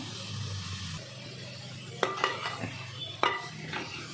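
Oyster mushrooms tossed and sautéed in a pan for a street-style mushroom gravy: a steady low sizzle broken by a few sharp scrapes and clanks of a utensil against the pan, with no talking.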